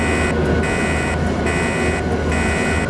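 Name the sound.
train horn in a video game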